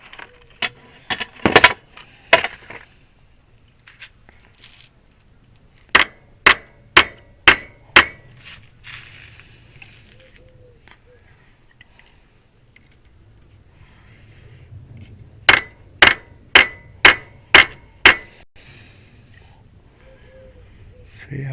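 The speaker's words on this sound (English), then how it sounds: "we gotta bang it with the hammer" A hammer bangs a part into place on a homemade experimental wind generator: a few scattered knocks, then two separate runs of about five sharp, evenly spaced strikes, loud and close, with quiet gaps between.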